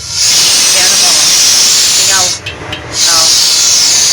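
Compressed air hisses loudly and steadily from a leaking relay valve on a truck trailer, close to the microphone, dropping out for about half a second before resuming.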